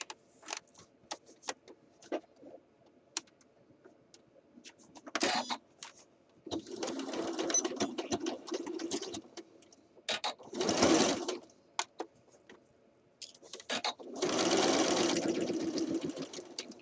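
A sewing machine stitches across the raw edge of a shirt dress cuff in three short separate bursts, with soft handling clicks and rustles of fabric in the quiet gaps between runs.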